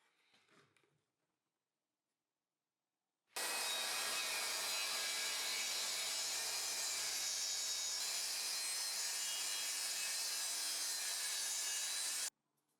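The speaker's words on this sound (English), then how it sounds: "First I make a cut 2 mm away from the edge, and a second cut to finish the miter joint." A miter saw slices through wood for a miter joint, a single sustained loud cut of about nine seconds that starts suddenly after near silence and stops sharply at the end.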